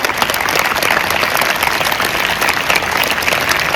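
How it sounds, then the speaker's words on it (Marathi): A school felicitation ceremony at a girls' school where a crowd gives sustained, dense applause for a student, clapping steadily and loudly throughout without pause. "टाळ्या वाजवायच्या, 1-2 मिनिटं तिच्यासाठी टाळ्या वाजवायच्या."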